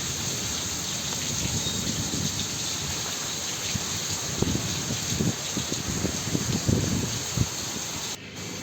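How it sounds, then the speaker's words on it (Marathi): Heavy monsoon rain pours steadily in a village, a dense continuous hiss with scattered louder spatters and no voices. "कसं वाटतं तुम्हाला एवढा पाऊस बघून?"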